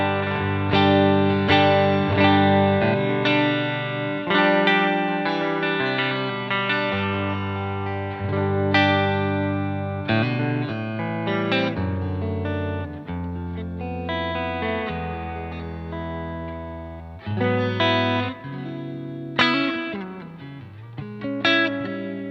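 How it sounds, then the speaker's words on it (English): Clean electric guitar through an old 1960s Fender amp, playing a steady run of ringing chords and single notes with a bright, full tone and light reverb, alone without talk. "Okay, so clean tones. I've got a Fender, an old 60s one actually."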